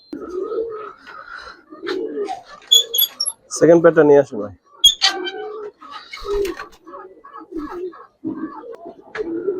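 Pigeons, Giribaz and coloured domestic breeds, coo in a pigeon market, soft low coos and rustling recurring through the clip while someone talks over them nearby.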